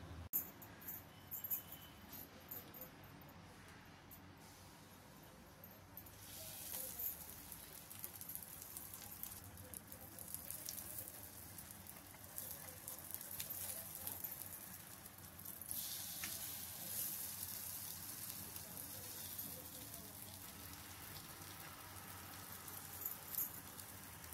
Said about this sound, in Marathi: छान असा फ्राय करून घ्यायचा आणि टिश्यू पेपरवर ठेवायचा